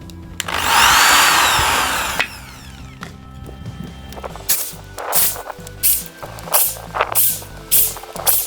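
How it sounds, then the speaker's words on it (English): A power drill bores holes through plastic waterwheel flippers: a long whining run near the start, then a series of short, rhythmic bursts of drilling and scraping, close and loud. "this is going to be drilled out to get a screw through that will be attached to the bicycle wheel"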